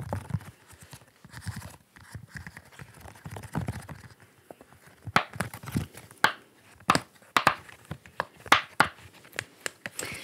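A bubble wrap ASMR trigger toy is popped repeatedly, giving sharp, close, loud snaps in an irregular run that grows denser toward the end, with soft handling noise between pops.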